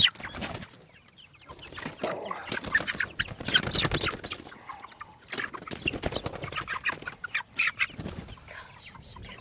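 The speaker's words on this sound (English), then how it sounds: "Good looking chickens." Chickens cluck and murmur in a coop or yard with some wing flapping, a busy, fairly close flock sound that rises and falls throughout without talk.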